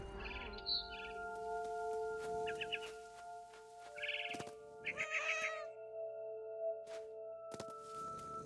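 A cat meows several times in the What Remains of Edith Finch video game, short plaintive calls over steady game music and ambience, with birdlike chirps nearby and no talking.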